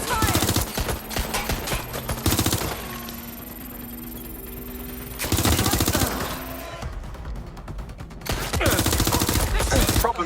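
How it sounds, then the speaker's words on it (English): Bursts of automatic gunfire in the Watch Dogs Legion video game, loud dense volleys in three separate clusters with quieter gaps between them, under a steady game soundtrack. "Shots fired!"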